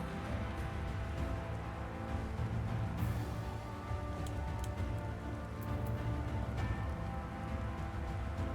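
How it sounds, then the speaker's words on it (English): Rain falls in the game Final Fantasy XIV, a steady, fairly faint hiss of rain on surfaces that continues evenly throughout with no talk over it. "Oh, now it's raining."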